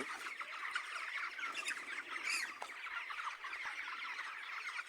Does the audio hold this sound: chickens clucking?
yes